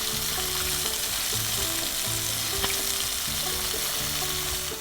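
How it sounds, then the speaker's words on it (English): Raw mud crab pieces frying in peanut oil with garlic slices in a large pan, a loud continuous sizzle close by with a steady low hum and one sharp clack, no talking. "Then place the raw mud crab pieces in the pan and fry."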